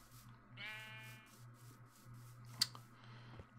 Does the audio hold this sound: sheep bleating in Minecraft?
yes